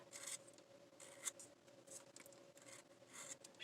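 Scissors snip through packaging material in a few quick, close cuts with brief rustling between them, quiet and alone with no talk.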